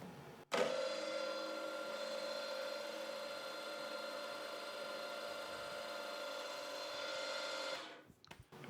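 Milling machine cutting steel with a ball end mill at 1600 RPM, a steady whining, grinding cut lasting several seconds at close range before the spindle winds down, with no talk.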